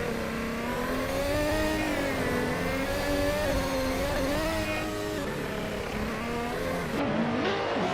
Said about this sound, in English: Hope you're ready for some exciting AI car races.